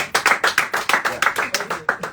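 A small burst of clapping, about a dozen quick, sharp claps in an even rhythm, close and fairly loud, with a voice faintly audible underneath.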